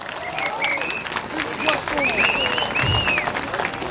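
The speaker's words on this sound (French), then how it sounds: "je vous demande de faire un tonnerre d'applaudissements à Madame Marie Deblic" Audience applause at a peace rally in Paris, with steady clapping holding for the whole stretch while a voice and crowd noise carry over it.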